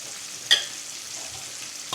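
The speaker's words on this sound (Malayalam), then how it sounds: "ഇനി മസാല പുരട്ടി വെച്ചിരിക്കുന്ന നമ്മുടെ തെരണ്ടിയുടെ ഓരോ കഷ്ണങ്ങളായിട്ട് ഈ കറിവേപ്പിലയുടെ മേളിലേക്ക് ഇങ്ങനെ നിരത്തി വെക്കും" Masala-coated stingray pieces laid over curry leaves in a hot pan give a faint, steady hiss of frying, broken by one sharp clink near the start.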